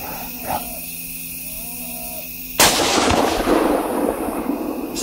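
A hunter's rifle shot at a deer, one sharp loud blast cutting through quiet outdoor ambience and followed by a long rumbling echo.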